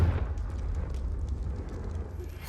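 A Confringo blasting spell explosion in Hogwarts Legacy, a low booming burst that settles into a sustained rumbling crackle.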